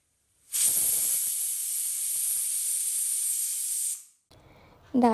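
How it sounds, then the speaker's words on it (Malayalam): A pressure cooker gives a loud, continuous hiss of escaping steam lasting several seconds, cutting off abruptly, followed by quieter noises. "കുക്കർ അടച്ച് വെച്ച് ഒരു 5 or 6 വിസിൽ വരുന്ന വരെ നമുക്കൊന്ന് വെയിറ്റ് ചെയ്യാം"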